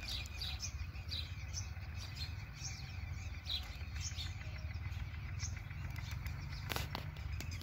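A flock of house sparrows chatters continuously beside a small drinking pond on an organic farm while wings flutter and flap now and then, with a sharp rustling burst near the end.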